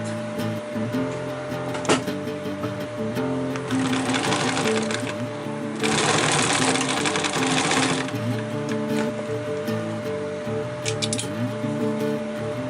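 A sewing machine stitches the folded end of a rollup backpack strap in close, continuous runs of rapid needle strokes, speeding up and slowing between bursts with a brief pause and clack near the start.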